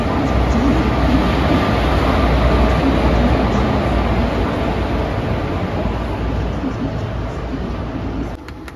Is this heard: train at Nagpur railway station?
yes